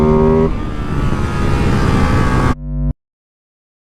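Ducati Hypermotard 698 Mono single-cylinder motorcycle under way, a loud, steady engine drone close up that ends with an abrupt downshift and cuts to silence near the end.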